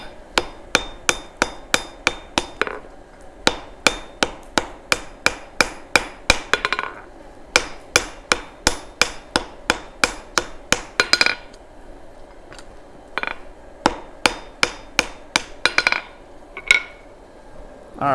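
Hammer blows forging a hot steel axe head on an anvil, a long series of sharp, bright metallic strikes in quick runs with short pauses between, close and clear with no talking.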